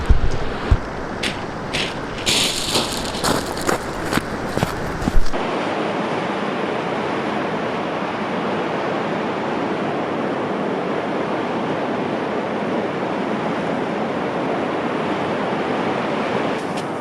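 Sea waves wash onto a beach in Wales in February, a steady broad surf roar with wind that fills the second half, after a stretch of clattering handling noise.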